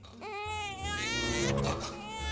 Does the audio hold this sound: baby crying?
yes